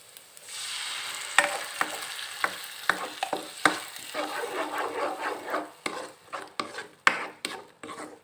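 Chili frying in a pan while being stirred with a utensil, a steady close sizzle broken by sharp scrapes and knocks against the pan, alone without talk.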